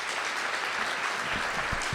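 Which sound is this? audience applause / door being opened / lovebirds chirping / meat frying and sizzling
audience applause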